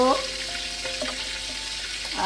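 Tilapia fish frying in hot oil, a steady close sizzle running throughout with no talking.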